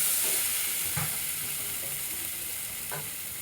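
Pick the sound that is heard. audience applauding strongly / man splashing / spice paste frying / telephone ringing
spice paste frying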